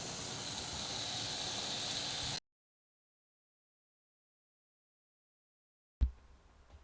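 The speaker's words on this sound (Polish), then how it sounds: "Smażymy boczek w ten sposób." Bacon fries in a pan with a steady broadband hiss and sizzle for a couple of seconds, then abrupt silence, followed by a brief soft knock and faint rustle.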